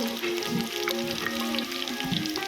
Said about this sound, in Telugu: ఇప్పుడు జీలకర్ర ఆవాలు ఎండిమిర్చి వేస్తున్నాం